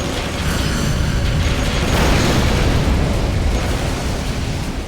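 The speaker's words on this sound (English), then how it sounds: "some weird echoing, both from shooting as well as the explosions set off by the barrels" Barrels blow up in the Maximum Chase racing game on the original Xbox, a loud continuous rumbling blast with a washy, echoing tail that swells and fades over a few seconds without speech.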